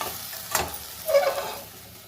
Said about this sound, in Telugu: బెండకాయలు వేగిపోయాయండి, ఈసారి ఎంత మెత్తగా వేగాయో.